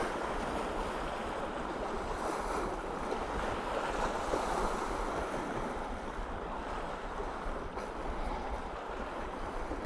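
Steady wash of water waves lapping with wind noise buffeting the microphone, continuous and fairly close, no voices, waterfront facing the Freedom Tower.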